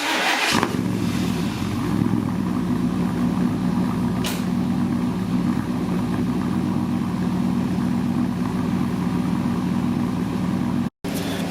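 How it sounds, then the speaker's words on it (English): A truck engine runs steadily at idle right after starting, a continuous close rumble throughout with no talking. "See, the truck is on now"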